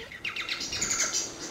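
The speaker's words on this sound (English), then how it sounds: "So in this example of a Bengalese finch," Bengalese finch song, a quick run of bright chirps and warbled notes from a single bird, close and clear over faint background hiss, without any talking.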